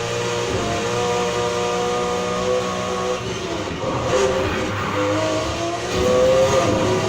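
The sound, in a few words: Nissan Fairlady 240 ZG '71 car racing in video game Need for Speed Heat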